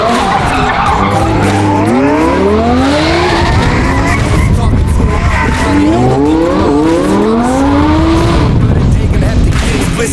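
A supercharged 840-horsepower rear-wheel-drive Lamborghini Huracán Evo Aperta revs hard, its engine pitch sweeping up repeatedly amid loud, continuous tire squeal and roar, close and overpowering, with voices faintly underneath.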